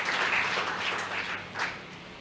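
A church congregation at a Sunday service in Secunderabad breaks into sustained applause. Many hands clap in a dense, even wash that swells briefly near the end, with no voices over it.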